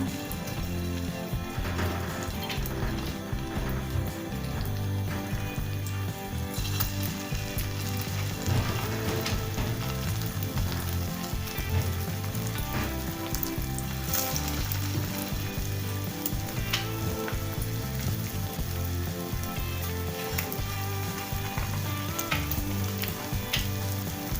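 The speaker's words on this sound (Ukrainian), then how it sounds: "Смажу їх на олійці, на середньому вогні, щоб добре всередині просмажились." Continuous loud sizzling of batter-dipped, meat-filled waffles frying in oil in a pan over medium heat, a dense crackling hiss that holds steady throughout.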